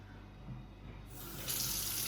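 Water running and draining from a potted indoor plant, a soft trickling splash that grows fuller and brighter partway through, close and fairly quiet with no voices.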